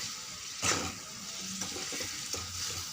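A curry fries in a pan with a steady sizzle broken by a few scraping stirs of the spoon, close and moderately quiet, with no voices.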